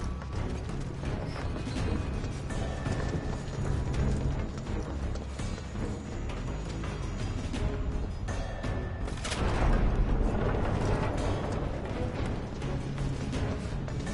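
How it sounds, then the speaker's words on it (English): A vacuum sucks up Mako gas in the Final Fantasy 7 Rebirth vacuuming minigame, a steady dense mechanical whoosh that runs throughout and swells louder for a few seconds in the latter part. "this is more of the vacuuming mini game I mentioned earlier"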